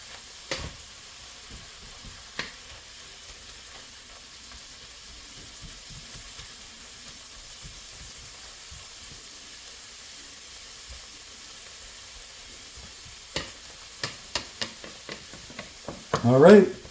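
Philly cheesesteak filling sizzles softly in a pan, with scattered utensil clicks and taps while it is stirred, then a louder run of scraping and clattering as it gets flipped at the end.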